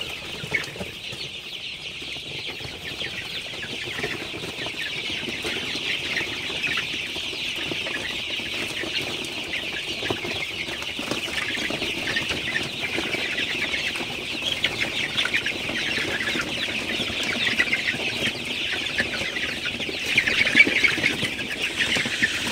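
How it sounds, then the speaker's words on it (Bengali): Sonali super hybrid chickens in their coop at night, a soft constant murmur of clucking and rustling from a close flock, slightly busier near the end, with no talking. "আমার সোনালি সুপার হাইব্রিড মুরগিগুলা মাশাআল্লাহ কিন্তু খুবই ভালো আছে, সুস্থ আছে।"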